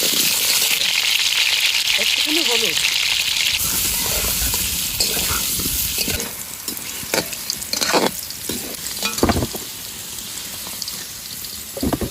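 Potatoes fry in mustard oil in a wok, with a loud steady sizzle up front that gives way to clattering stirring and scraping of the pan, and a few brief voice sounds underneath.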